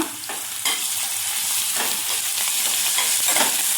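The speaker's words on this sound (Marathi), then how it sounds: "आता लसूण टाकून घ्यायचा आहे ठेचून घेतलेला, हे पण परतून घ्यायचा" Softened onion and crushed garlic sauté in a hot pan, a steady bright sizzle with scraping stirs of the spatula breaking through every second or so, close and continuous.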